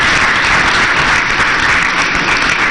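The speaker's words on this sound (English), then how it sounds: "another round of applause for His Excellency" Loud, dense applause rises from an audience at a media encounter with a head of state, a continuous wash of clapping with no break across a few seconds.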